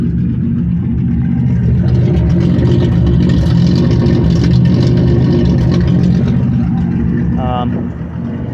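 A Ford Falcon with a cammed engine runs steadily and loudly close by, its rumbling idle sustained throughout before easing slightly at the end.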